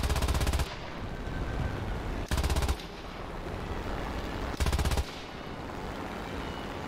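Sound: aircraft machine guns firing in the video game War Thunder

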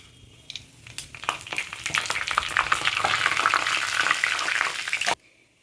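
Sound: dry red chillies and panch phoron frying in oil

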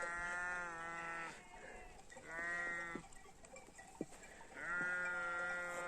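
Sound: goats

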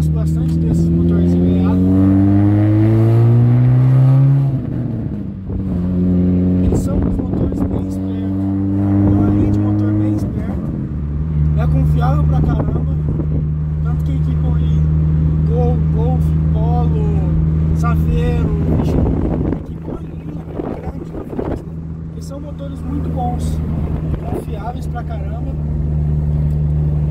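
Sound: Volkswagen Polo 1.6 revving, straight exhaust pops and bangs

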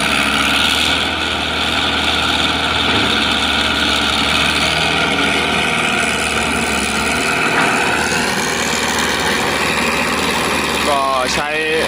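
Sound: SK100 excavator diesel engine running

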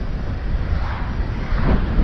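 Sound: strong wind

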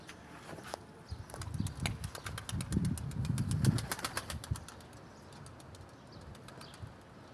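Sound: pigeons flapping wings while flying in

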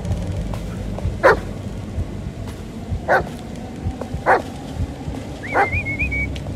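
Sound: dog whimpering and barking in video game Blair Witch

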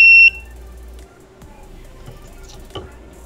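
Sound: buzzer of water level sensor circuit sounding

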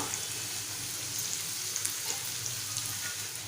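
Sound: crushed garlic cloves frying in pan

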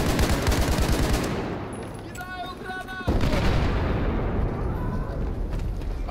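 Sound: grenade explosion and gunfire in video game Battlefield 4

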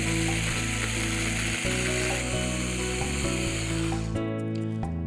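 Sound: blender chopper attachment grinding vanilla pod with fructose

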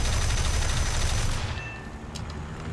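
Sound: aircraft cannon fire in War Thunder video game

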